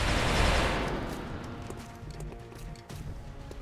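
Gunfire in the video game XCOM: Enemy Unknown, a loud burst opening that decays into scattered lighter shots and clatter over a few seconds, with no voices.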